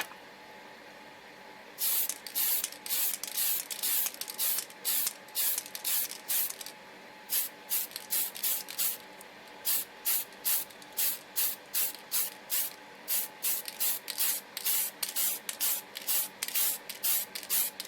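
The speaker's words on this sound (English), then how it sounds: "I'm going to be building it out with the spray can" Repeated short bursts of spray paint hissing from an aerosol can, close up, pre-shading a plastic AT-AT model kit, in a steady rhythm of pulses with brief gaps between them.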